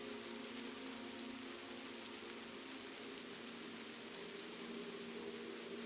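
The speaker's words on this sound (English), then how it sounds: "beginning very quietly, you hear rain" Soft rain falls steadily on a quiet night in Kyoto, Japan, a faint, even hiss of drops with no breaks and no other sounds over it.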